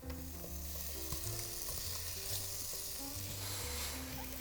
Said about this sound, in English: you want to put the potato into the pan with the shallot and the garlic